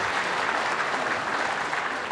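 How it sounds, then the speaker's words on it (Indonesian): An audience at a Buddhist dharma talk claps together, a dense, even burst of applause sustained throughout at moderate volume. "Boleh kita tepuk tangan sekali lagi sebentar."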